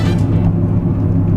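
A Lincoln LS V8 engine gives a low, steady rumble from inside the cabin as the gas pedal is pressed, loud and close.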